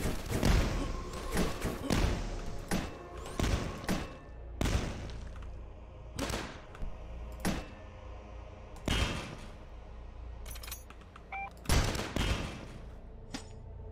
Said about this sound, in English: I don't use this grenade launcher enough, you know?